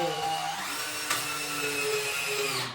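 A drill runs continuously through the whole stretch with a steady, high, close-up whine and no pauses.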